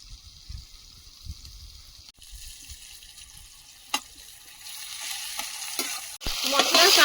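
A paste of green chili, ginger, garlic and cumin sautés in a pan with chopped onion. Quiet scraping and stirring builds into a louder sizzle toward the end, with a couple of sharp clinks of a utensil along the way.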